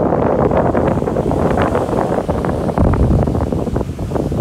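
Steady wind buffeting a microphone outdoors on the west coast of Sardinia, a continuous low rumble with gusty fluctuations throughout, no voices.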